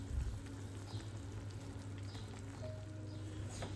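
A cucumber mixture cooking in a pan on the stove gives a steady, soft bubbling and sizzling that runs unbroken and close throughout, with no voices.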